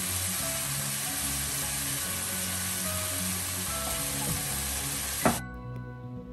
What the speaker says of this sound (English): Now we are going to saute the finely chopped vegetables for some time until it becomes tender.